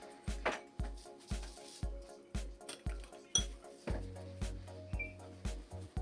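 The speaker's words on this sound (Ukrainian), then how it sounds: "Все перемішую." Spoon clinks against a bowl in a steady rhythm, about a dozen light taps spaced evenly, quiet and close with no talking, while stirring a lemon juice salad dressing.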